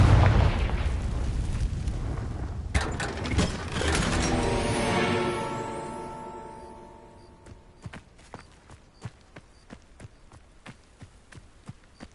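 Confringo explosive spell detonating in the video game Hogwarts Legacy, a loud rumbling blast that swells for several seconds, rings out and fades, followed by scattered sharp clacks and taps like hooves or debris.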